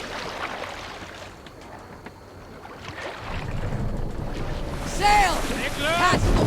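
A Viking longship in Assassin's Creed Valhalla cuts through open water with steady wind and waves rushing over the hull, swelling louder halfway through, while voices call out over the sea.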